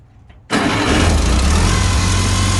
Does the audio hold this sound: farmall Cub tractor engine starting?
yes